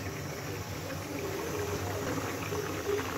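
Milk boiling in a pot on a home kitchen stove gives a steady, soft bubbling hiss that carries on evenly throughout, with no talk.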